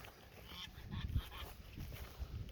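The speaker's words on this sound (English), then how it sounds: "You can hear the ducks and the geese." Geese honking and ducks calling outdoors beside a grassy field row, faint and distant, repeating now and then through a soft outdoor background.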